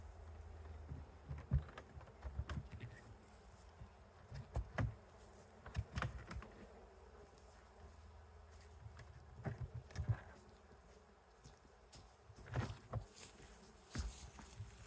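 Honeybees buzz faintly around an open top bar beehive, a low steady hum under scattered clicks and handling knocks nearby, no speech.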